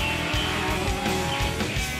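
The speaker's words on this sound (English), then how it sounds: "Give it a little bit of gas and the car will start rolling" A Lamborghini Gallardo's engine rumbles loud and close on the streets of Singapore as it pulls away and starts rolling, with low pulsing throbs and a rising growl.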